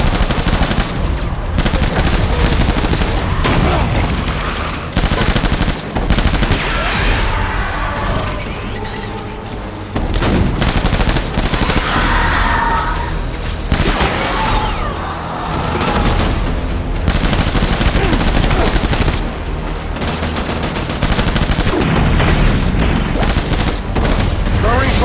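Heavy machine gun fire in the video game Death Stranding, with sustained bursts and rapid rattling volleys, loud and close, broken by brief pauses and occasional booms, with voices shouting commands between and over the shots.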